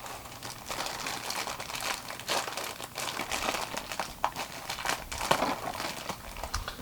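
A standard plastic bag crinkles and crunches softly during the unboxing of a Figma 418 Saber Alter Shinjuku version action figure. The sound comes as irregular, close-up rustles and crackles, with no speech.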